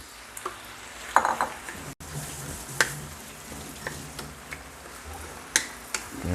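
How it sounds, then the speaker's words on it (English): Tomatoes going into a pan of olive oil and softened onion, giving a low sizzle with scattered clicks and stirring sounds, moderately close and with no talking. "we add our tomatoes."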